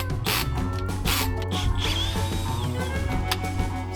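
A ratchet wrench clicks steadily while loosening the foils on a sailboat mast, working from the top down, with continuous mechanical ratcheting over a busy, loud background.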